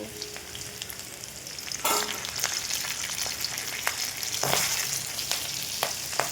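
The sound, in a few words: garlic and green chilli frying in hot oil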